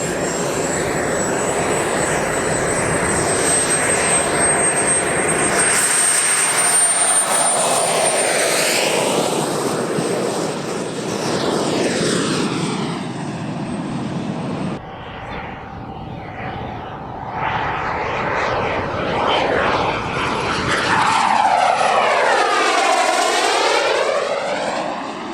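Small electric jet aircraft with a 10-bladed fan spinning at 40,000 RPM, powered by lithium polymer batteries, giving a loud continuous jet-like whine and whoosh whose pitch sweeps up and down as it passes, with no talk.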